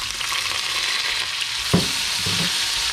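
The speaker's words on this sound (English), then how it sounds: "now our potatoes will not be long on high to get that nice crispy outside with the soft on the inside" Potatoes frying with bacon in a hard anodized 14-inch Anolon Advanced wok, giving a loud, steady close-up sizzle with a single sharp knock or stir partway through.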